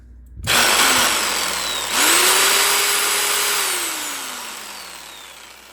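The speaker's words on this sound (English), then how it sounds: "What about a sawzall? Full-size sawzall." Full-size sawzall reciprocating saw powered through a car amplifier, a loud motor whine that starts abruptly, dips briefly, restarts and then winds down slowly, heard alone.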